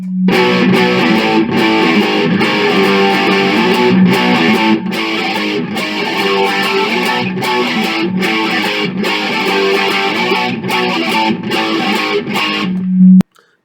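A loud, heavily distorted electric guitar plays a chugging riff of repeated chord stabs with short rhythmic breaks, ending on a ringing chord.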